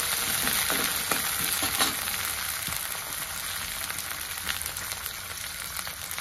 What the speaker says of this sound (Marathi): तर या कांद्यामध्येच मी वाटाणा पण टाकून घेते